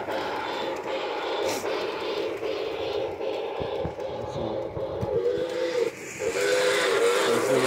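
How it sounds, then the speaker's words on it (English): A Keystone U.S. Army toy train set's steam whistle hisses in long, airy blasts over a steady rumble, fairly loud and close, with faint voices in the background. "There's a whistle. That's a whistle. It's a little loud, by the way."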